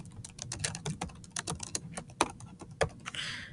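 Fingers type on a computer keyboard in quick, uneven bursts of close, crisp key clicks, with no voices.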